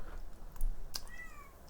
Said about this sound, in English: if you hear a little meowing in the back